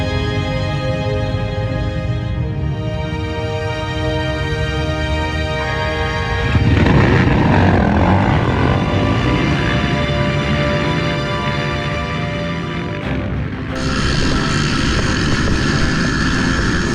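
Quad ATVs in a women's class race roar off the start line at Bartow, a dense, loud, continuous layer of engines that rises in intensity midway and holds steady, with no talk over it.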